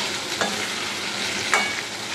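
Ginger and green chili frying in hot oil, a continuous sizzle with two brief louder stirring scrapes, close and with no voices.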